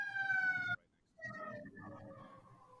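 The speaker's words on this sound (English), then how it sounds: "Oh, there's a siren." An ambulance siren passes on a nearby road: a brief, faint, steady wailing tone that cuts off abruptly, followed by quiet background and people talking.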